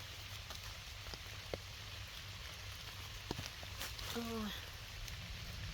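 Rain falls steadily on leaves and ground in woodland during mushroom gathering, a soft, even patter with a few sharper drips, while a person speaks briefly in the background.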